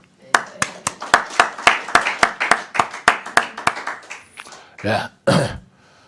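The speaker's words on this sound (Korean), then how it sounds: "우리 목사님께 감사의 박수를 한번 올리겠습니다." A church congregation claps for the pastor at a Sunday service, a run of about a dozen sharp, evenly spaced claps that thin out, followed by a couple of coughs or throat-clearing sounds.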